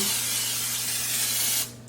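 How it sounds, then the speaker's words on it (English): A can of olive oil cooking spray hisses into a cooking pot in one continuous close burst lasting under two seconds, then cuts off abruptly. "I think the olive oil spray does just as good of a job"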